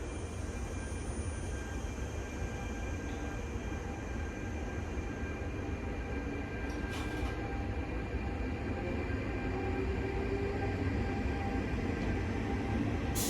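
Steady low rumble of a Trenitalia regional train at Venezia Mestre station, with faint constant tonal hums and a brief hiss midway, no voices.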